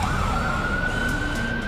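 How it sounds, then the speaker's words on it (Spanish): Emergency vehicle sirens wail continuously through the empty streets of New York during the COVID-19 pandemic, a steady rising tone that is loud and unbroken over a low traffic rumble, with no voices. "Lo único que se siente constantemente son los ruidos de las sirenas"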